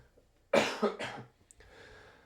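Two or three harsh allergy coughs in quick succession, close and loud, followed by a quieter throat-clearing rasp and breathy noise.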